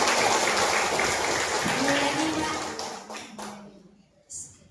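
Applause for a presenter from the district health office at a village posyandu cadre training session, a dense wash of clapping that is loud at first and then thins out, with voices talking over it near the end.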